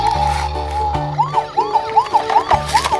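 A toy ambulance siren wails in repeated rising-and-falling electronic sweeps, loud and close, with a few clicks and a low buzzy tone at the start.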